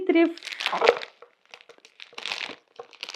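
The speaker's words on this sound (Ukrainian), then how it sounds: "я розпаковую бутікові шанель" A boxed Chanel boutique perfume is unpacked up close, with bursts of crinkling and rustling packaging separated by short pauses. A voice is briefly heard at the start.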